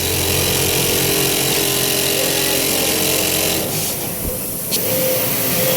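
Quilting machine frame running at low base speed, a steady mechanical hum with a faint high whine, continuous and fairly close, dipping briefly near the end before resuming.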